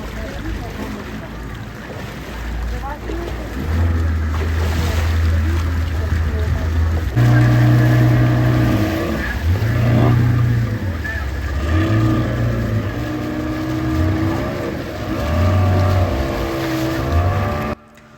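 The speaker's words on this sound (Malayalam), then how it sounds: "അവിടെ നിന്ന് ഇങ്ങോട്ട് വരാനുള്ള ബോട്ട് കുറച്ച് സ്ട്രഗിൾ ചെയ്യുന്നുണ്ട് ആ ഒരു തിരമാലകളൊക്കെ കുറച്ച് ക്രോസ് ചെയ്ത് ഇങ്ങോട്ട് വരാൻ കുറച്ച് ബുദ്ധിമുട്ടുന്നുണ്ട്" A motorboat engine struggles through breaking waves near the beach at St Mary Island, throbbing in repeated low surges over steady wind and surf, loud and continuous.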